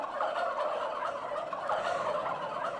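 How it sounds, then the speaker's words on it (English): Turkeys in Farming Simulator 22 gobble continuously in a dense, rattling chorus, steady and moderately loud throughout with no voices. "We are being greeted by a bunch of turkeys."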